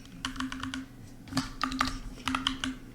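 Rapid clicking keystrokes on a computer keyboard come in short uneven bursts, close and fairly clear, over a steady low electrical hum with no talking.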